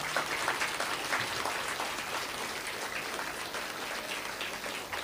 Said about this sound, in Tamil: அந்த ஆசிரியர் பெருமக்களுக்கு ஒரு பெரிய கைத்தட்டல் கொடுங்க